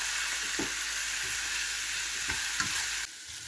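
About half a teaspoon of garlic sizzles in a pan alongside cabbage, a dense, loud, continuous frying hiss with soft scrapes of stirring underneath; the sizzle drops slightly near the end.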